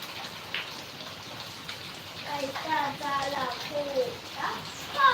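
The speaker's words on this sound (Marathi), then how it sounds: "रिमझिम रिमझिम रिमझिम पाऊस चालू आहे मुसळधार पाऊस चालू आहे" Heavy rain falls steadily in a soft, even hiss at moderate distance, while a voice talks over it through much of the stretch.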